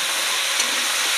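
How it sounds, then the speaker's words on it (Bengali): Onions and potatoes fry in oil during village-style home cooking, giving a steady, close, bright hiss that carries on without a break for the whole short stretch. "তো এবার এই যে পেঁয়াজ আলু একসঙ্গে ভালো করে ভেজে নেব"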